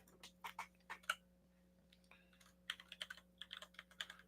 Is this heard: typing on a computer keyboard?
yes